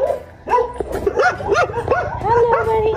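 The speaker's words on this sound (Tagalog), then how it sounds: "Mga aso." Several dogs at a mountain homestay bark and yip continuously and up close, in overlapping calls.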